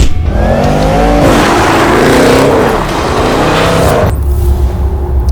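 A Jaguar F-Pace SVR accelerates hard, its engine roaring loud and close with rising gear tones, then easing off near the end.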